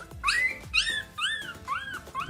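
Newborn puppies whimper and yip in a run of about five high, rising-and-falling cries, close and fairly loud, with short pauses between them and no talk.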